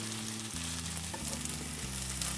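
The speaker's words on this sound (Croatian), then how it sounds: "Znači mora se riža ispržiti, nemojte preskakati taj dio." Rice frying in a pan while it is stirred constantly, giving a dense, loud, continuous sizzle with a few soft scrapes of stirring, close by and with no voices.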